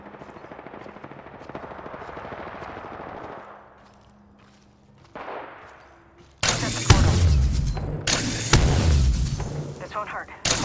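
Gunfire in Apex Legends, with a quieter stretch of game sounds giving way to loud, close bursts of rapid automatic shots, some with heavy booms.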